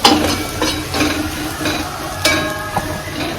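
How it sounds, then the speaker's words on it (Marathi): Ground spices roasting in a pan for an egg curry, a crackling sizzle punctuated by rhythmic spatula scrapes roughly every half second, close and loud, with no talking. "हे सगळे मसाल्याचे त्याच्यामध्ये टाकून घेतलेले असे छानसे असे भाजून घ्यायचेत मसाले"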